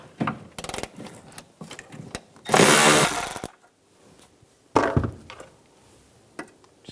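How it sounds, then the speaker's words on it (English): A power tool with a 10mm socket removes nuts from the liftgate handle garnish of a 2004-2009 Toyota Prius, with several short, loud whirring bursts separated by quiet handling noises. "Using a 10mm socket, take these nuts off."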